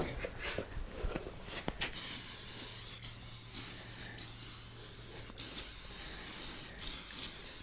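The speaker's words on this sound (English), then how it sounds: "So I'm gonna spray. Let's see, I'm gonna spray these six and leave these two undone." Long hissing bursts from an aerosol can of mold release spray onto molds, several sustained sprays separated by brief pauses, close and loud.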